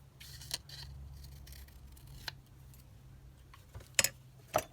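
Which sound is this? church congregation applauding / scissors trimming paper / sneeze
scissors trimming paper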